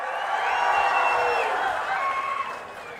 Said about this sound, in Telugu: అవునంటే గట్టిగా చప్పట్లు కొట్టండి.